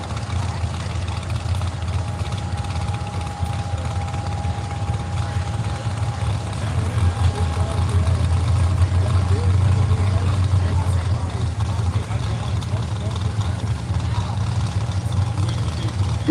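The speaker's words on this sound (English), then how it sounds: "finish up the night with the super farm tractors. I hear that familiar rumble back in there." Super farm tractors at a tractor pull in Rockwell, Iowa give a steady, low engine rumble that holds through the clip and swells louder toward the middle, with a faint tonal whine above it.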